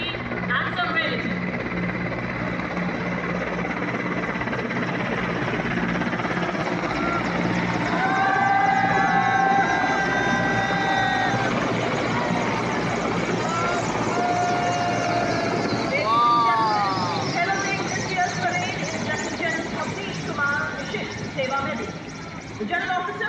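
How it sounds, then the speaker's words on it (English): Indian Air Force helicopters fly in Dhwaj formation over a parade, a steady loud rotor drone filling the whole stretch, with a commentator's voice and brief whistling tones riding over it. "Air Force helicopters flying the Dhwaj formation, which also heralds the beginning of today's parade."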